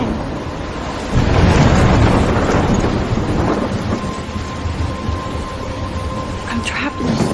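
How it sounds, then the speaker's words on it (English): Storm in the video game Life is Strange: a heavy rumble of thunder rolls in and sustains under a constant roar of wind and rain, loud and close, with a voice speaking briefly over it. "I'm trapped in a storm?"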